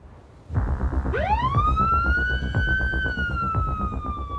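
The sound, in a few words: ambulance siren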